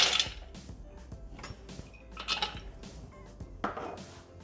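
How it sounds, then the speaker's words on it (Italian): Blanched almonds tumble into a Thermomix mixing bowl, a few close, light clattering bursts of nuts hitting the bowl with quiet gaps between them. "Mettiamo all'interno del boccale le mandorle."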